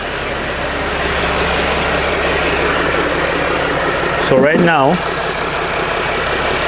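A Mercedes Sprinter engine idles with a steady, even drone throughout, while someone speaks briefly over it near the end.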